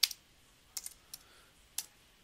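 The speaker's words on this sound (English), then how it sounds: "Now what I'm doing here is I'm simply typing" Soft, sparse keystrokes tap on a computer keyboard in a few separate clicks, quiet and close against a near-silent room.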